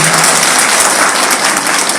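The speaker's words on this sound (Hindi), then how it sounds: "सामने जोरदार ताली बजा करके इनका स्वागत करिए" Dense, steady applause from a crowd at an outdoor political rally, loud and continuous throughout with no speech over it.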